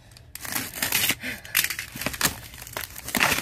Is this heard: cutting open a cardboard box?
yes